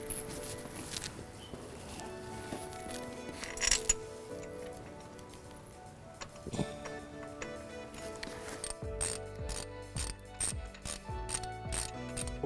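Ratchet tightening alternator bracket bolts on a 2018-2023 Ford Mustang GT during an Edelbrock E-Force install, with close, quiet clicking and mechanical rattles that grow into a denser run of sharp ratchet clicks toward the end.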